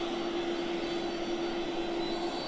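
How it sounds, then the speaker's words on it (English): Steady, loud jet airliner engine hum with a strong sustained tone as the presidential plane taxis toward a stop on the tarmac, continuous and close throughout with no talk. "The plane is about to stop,"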